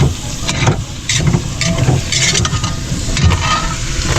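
Meat frying in a pan by a river, with a steady loud sizzle and intermittent scraping stirs, close up and continuous.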